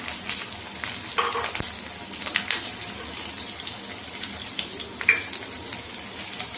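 Chopped onion goes into hot white oil in a pan and fries with a continuous close sizzle. Occasional utensil scrapes and taps from stirring break through the sizzle, and no one speaks.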